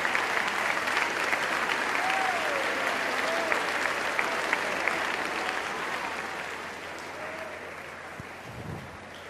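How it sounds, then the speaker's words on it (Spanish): Audience applause at an education talk, a steady crowd clapping that fades gradually, with faint voices and a brief low thump near the end. "aplaudan, tranquilos."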